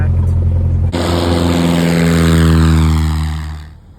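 A propeller airplane ready for takeoff at Palomar Airport starts its engine loudly after a quiet first second, then holds a steady, close, droning roar with strong tonal hum that eases off near the end.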